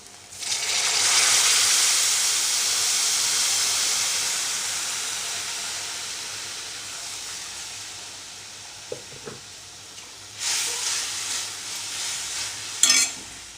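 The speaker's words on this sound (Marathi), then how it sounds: "या पाण्याला चांगली उकळी येऊ द्यायची आहे." Two glasses of water heating toward a boil in a pot, giving a loud rising hiss that slowly fades to a gentle simmering bubble, with a couple of small clinks and a later burst of sizzle near the end.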